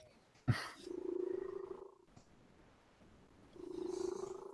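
A house cat purrs in two long, steady rumbling stretches separated by a pause, close and soft, after a brief sharp knock at the start.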